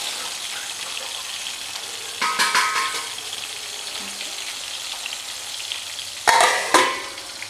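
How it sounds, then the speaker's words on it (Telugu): Mutton kofta curry frying in a pan until light brown, heard as a low, steady background sizzle interrupted by two louder bursts of stirring or clattering, with no voices. "లైట్ బ్రౌన్ వచ్చేంత వరకు బాగా కుక్ అయ్యే వరకు ఫ్రై చేసుకోవాలి."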